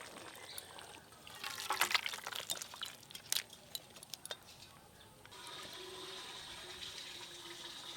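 Fish curry broth is poured out of a pan in a short, faint splashing pour with small clinks of the vessel, followed by a softer steady trickle.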